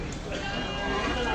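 Sheep bleating at a small-livestock market in Ceyhan, heard amid a steady, dense crowd murmur with people talking throughout.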